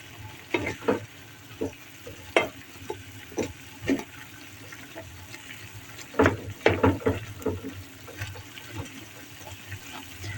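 Kavurma, a Turkish dish of fried meat, sizzles in a pan while a utensil scrapes and stirs it in irregular bursts, quiet and close, with no talking.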